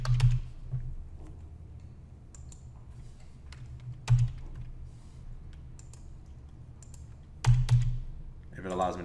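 Computer keyboard typing in short bursts, soft clicks and taps interrupted by a few sharper knocks, with a voice speaking faintly at the end.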